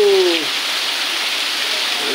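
Rain falls steadily in Ramgad Deulwadi, Malvan, Sindhudurg, an even broad hiss that stays constant throughout, with a brief bird call at the very start and no speech.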